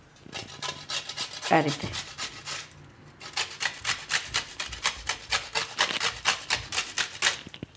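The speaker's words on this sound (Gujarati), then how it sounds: "તો થોડીક આપણે આમાં છીણી નાખશું" Raw mango being grated for an instant garlic-mango pickle, a close, rhythmic rasping of quick repeated strokes with a brief pause partway, and a voice briefly speaking over it.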